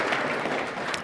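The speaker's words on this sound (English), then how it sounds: "Deserving of applause." Brief burst of dense, steady audience applause at a Holocaust education gathering, many hands clapping at once in a continuous wash, fairly close and with no voices over it.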